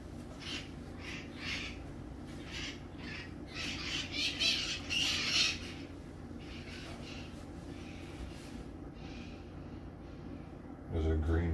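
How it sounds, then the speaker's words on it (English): A flock of small green parrots squawks outdoors, repeated harsh calls that swell and fade at middle distance while a person talks nearby. "Those are green parrots."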